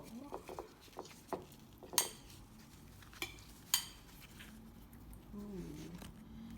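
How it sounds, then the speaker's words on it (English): Vegan huitlacoche tamales being unwrapped by hand, with a run of soft crinkly rustles and a few sharp clicks and clatters nearby, light movement noise between them. "I always just love unwrapping them because they're like a little present"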